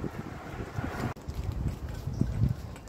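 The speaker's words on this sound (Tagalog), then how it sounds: "Ayan, mahangin." Wind blows outdoors at a tourist spot in Israel, a steady, moderately loud rushing buffet on the microphone that briefly drops out midway, with no talking.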